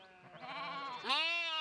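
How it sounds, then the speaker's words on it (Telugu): Sheep in a flock bleat nearby, a couple of clear wavering calls in quick succession with the second louder and higher, in a quiet rural setting. "గొర్రెలు ఎక్కువ కనబడుతున్నాయి"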